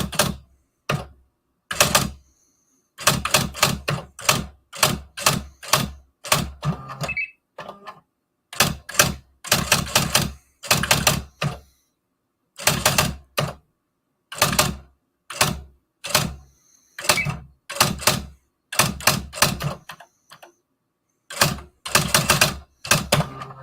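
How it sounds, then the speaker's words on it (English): Bursts of loud, clattering keystrokes typed out in quick runs separated by short pauses, with a sharp mechanical, typewriter-like click to each strike. "let me type that out"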